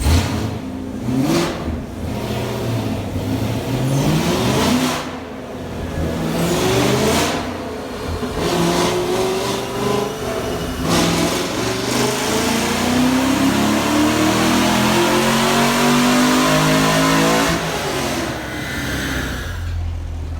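Car engine on a dyno after a swap to Granatelli ignition wires, loud and close, revving up through a long sustained pull with rising pitch before easing off near the end.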